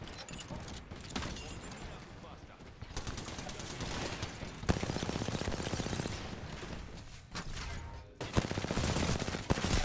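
Gunfire in Apex Legends comes in repeated rapid bursts over busy game noise, loud and close, with short pauses between volleys.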